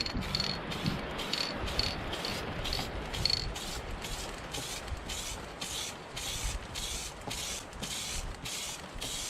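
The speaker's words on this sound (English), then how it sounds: "I'll give it a lube" Repeated short bursts of chain lube aerosol spray on a motorcycle chain in a quick regular rhythm, close by, hissing against a mechanical ticking as the chain turns.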